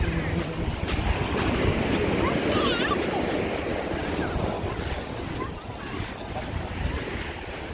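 Gentle surf washes in steadily at Praia Vermelha, Urca, Rio de Janeiro, with soft wind noise over the microphone, a continuous low rush of small waves breaking nearby.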